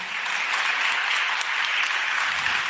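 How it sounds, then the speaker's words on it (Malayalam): A church congregation at a Malayalam sermon claps together in dense, sustained applause that fills the room evenly from start to end. "നല്ലൊരു ഈശോയ്ക്ക് മഹത്വം കൊടുത്ത് നല്ലൊരു ക്ലാപ്പ് കൊടുത്ത്"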